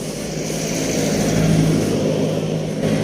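A car engine hums past nearby, swelling to a peak midway and then easing off, a low steady drone.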